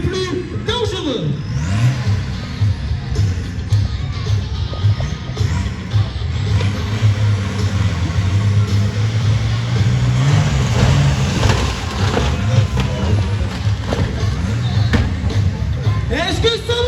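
At a monster truck festival, a monster truck engine revs and roars loudly as it crushes cars, surging and rising in pitch, while a crowd and an announcer's voice carry over the din.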